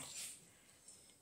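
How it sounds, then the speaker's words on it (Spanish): Dogs kept indoors give a soft, breathy snort or sniffing burst, then quieter rustling snuffles, all faint and close with no talk. "unos ruidos que hacen son los perros"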